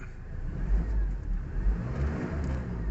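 A 2015 Ford Ranger engine revs up in surges, the low rumble rising and falling in a few blips and holding a steady idle between them, close and fairly loud with no talking.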